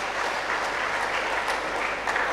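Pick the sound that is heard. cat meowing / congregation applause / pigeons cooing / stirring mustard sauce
congregation applause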